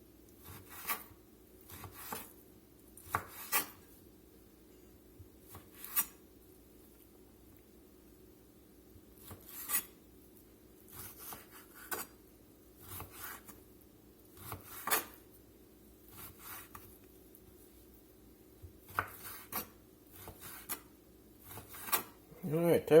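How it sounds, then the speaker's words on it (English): A knife slicing partly frozen steak into strips on a board, giving a string of short scraping, rasping strokes in irregular bursts with quiet gaps between, close and fairly soft. "it really makes it a lot easier to cut this up"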